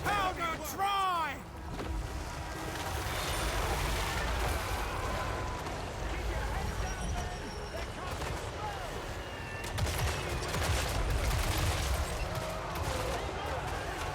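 Hand gunners fire volleys in the video game Total War Warhammer 3, a crackle of scattered gunfire layered over loud continuous battle noise and rumble, with whooshing effects early on and heavier bursts later.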